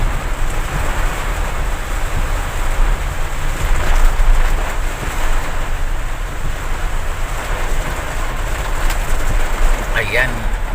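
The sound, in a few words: heavy rain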